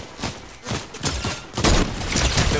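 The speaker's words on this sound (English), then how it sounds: "I'm trying to see where they're shooting at me." Rapid gunfire bursts in the Fortnite video game, several loud cracks and thuds in quick irregular succession that grow denser and louder toward the end, with no voices.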